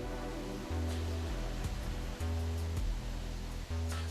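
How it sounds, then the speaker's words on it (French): Turbulent water of the Madone river cascading in the Mercantour mountains, a loud steady rushing roar close by, with a low hum running through it and no voices. "Les eaux turbulentes de la Madone bouillonnent en cascade."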